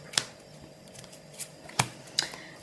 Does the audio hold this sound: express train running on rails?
no